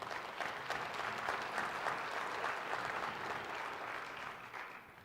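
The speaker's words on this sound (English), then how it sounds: "So please give him a round of applause." Sustained, dense applause from a large audience at a 2021 county office of education kickoff celebration, steady and loud throughout with no pauses.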